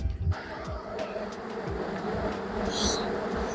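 Honeybees buzz in a full hive box during a swarm-control hive inspection, a steady close hum with brief thumps from handling and a louder buzz near the end.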